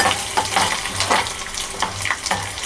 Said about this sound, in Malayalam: അപ്പോൾ എണ്ണ നന്നായി ചൂടായി വന്നിട്ടുണ്ട്. അതിലേക്ക് കടുക് ഇടുക, ജീരകം, എള്ള്, വറ്റൽമുളക്, വെളുത്തുള്ളി എല്ലാം ആഡ് ചെയ്യുക.